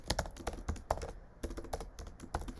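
Rapid computer keyboard typing while code is written, a quick irregular patter of close, crisp keystrokes with brief pauses, no voices.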